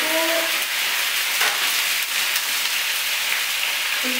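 Chunjang black bean paste sizzling and frying in a pan, a steady close crackle like light rain that holds for several seconds with no talking.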